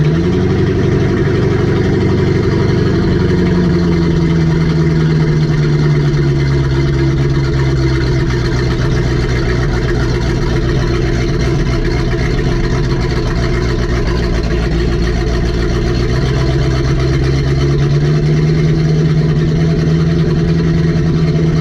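A boat engine with an outdrive idles steadily and loud, its low drone rising and falling as the revs fluctuate up and down over about twenty seconds, with no talking.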